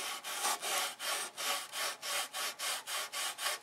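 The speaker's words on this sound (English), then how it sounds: "roll of sandpaper." A roll of sandpaper rubbed back and forth over a wooden model dashboard, in steady rhythmic strokes of about three per second, close and clear with no talking.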